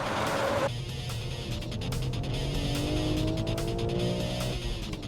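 Race car sliding on a track, tires squealing in drawn-out rising tones over a steady engine drone, with a sharp shift partway through and no talking.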